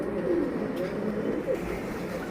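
Big pigeons on a pigeon farm give low soft coos over a murmur of background talk, close and fairly steady.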